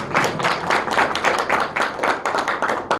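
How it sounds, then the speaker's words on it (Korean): Audience at a Korean finance forum clapping after an opening address, loud close applause with distinct individual claps, continuous for the whole stretch. "다시 한번 박수로 감사 인사드립니다."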